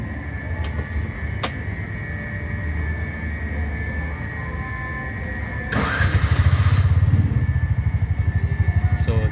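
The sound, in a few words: Bajaj RE FI 236cc engine running and cutting out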